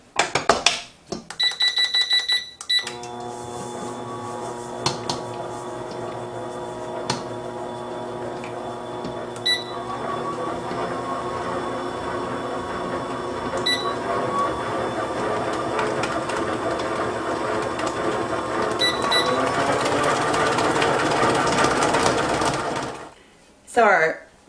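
An electric mixer beats butter, shortening and brown sugar in a steady whirring drone that rises and holds for a long stretch before stopping, with a few short beeps near the start.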